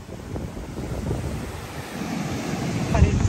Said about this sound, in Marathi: केवढा मोठा समुद्र